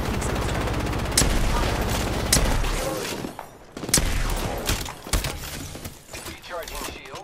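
Gunfire in Apex Legends: rapid bursts of automatic fire and single sharp shots, loud and close, with mechanical clicks and gaps between volleys, while voices talk.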